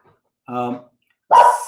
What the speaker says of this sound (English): apologize for the dog barking in the back